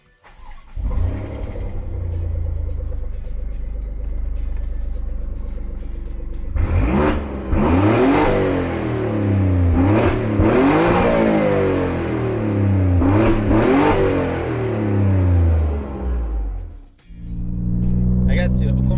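A 600 hp Alfa Romeo Giulia Quadrifoglio revs hard, several sharp climbing and falling bursts close by after a steady idle, ending in a brief dip and a fresh roar; a voice talks over parts of it.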